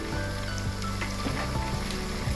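Ginger garlic paste frying with soft tomato pieces in a pan gives a steady close sizzle with faint crackles and light stirring.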